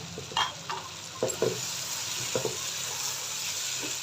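Two medium capsicums fry with potatoes and tomatoes for a mixed vegetable bhujia, giving a steady close hiss. A few sharp clicks and scrapes from stirring cut through it.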